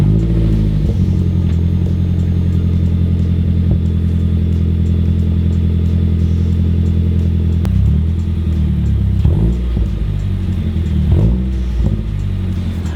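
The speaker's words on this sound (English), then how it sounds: "I want to do a exhaust test just to make sure there's no leaks, so enjoy a potential cold start" A Mazdaspeed 3 with an Ultimate Racing catback exhaust idles loudly and steadily after a cold start, a deep rumble with a few brief revs and clatter near the end, close to the microphone.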